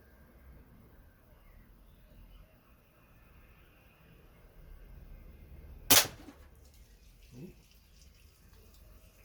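An SMK air rifle fires pellets at tin cans outdoors: a single sharp crack stands out against quiet background rustle, followed about a second later by a faint dull knock of the pellet striking.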